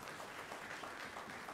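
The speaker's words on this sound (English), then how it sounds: "Let's give her a round of applause" An audience gives Delaney Krieger a round of applause at a Sunday gathering, a brief, even patter of many hands clapping, fairly faint and distant.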